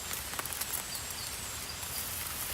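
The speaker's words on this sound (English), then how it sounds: "Here comes the rain." Rain falls through a forest, a soft, steady hiss of drops pattering on leaves and ground, faint and even throughout, with no voices.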